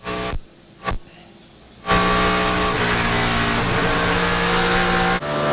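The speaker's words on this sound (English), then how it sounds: "Backs it into the wall. This is on board with Mark Martin." A NASCAR Cup Series race car at Chicagoland Speedway, recorded on board, loose and backing into the wall: a sharp impact is followed by a loud, sustained engine roar with brief dropouts, and no speech.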